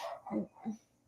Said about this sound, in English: sorry, that's the dog back there.